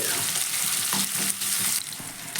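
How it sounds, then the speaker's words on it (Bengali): Onion and green chillies lightly frying in a pan, a close, steady hiss of oil with occasional stirring scrapes and no voices. "এবার পেঁয়াজ আর লঙ্কাটাকে একটু ভেজে নেব"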